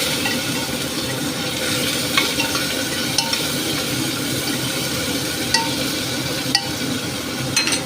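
Beans and green chillies fry in a pan with carrots for a chana dal khichdi, giving a steady close sizzle broken by periodic stirring scrapes and light utensil clinks, with no talking.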